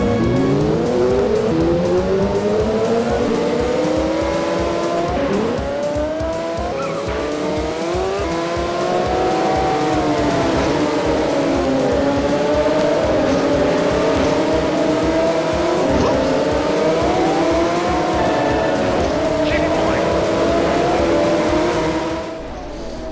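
A racing motorbike engine whines continuously in the 1997 video game Moto Racer on a desert track, its pitch rising and dipping with throttle and gear changes. Loud and close throughout, with no talk.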